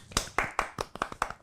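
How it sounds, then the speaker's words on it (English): A short round of clapping by a single pair of hands, about seven quick, evenly spaced claps, close and crisp with no voices. "Round of applause, I think."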